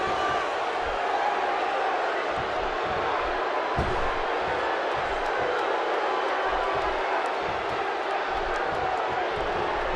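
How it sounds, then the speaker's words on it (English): A wrestling arena crowd buzzing before a tag-team match, a dense steady roar of many voices with scattered shouts and thuds, filling the whole stretch at a distance with no clear commentary on top. "The crowd is buzzing. They're ready for this thing to get underway."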